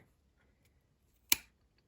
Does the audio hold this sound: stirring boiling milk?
no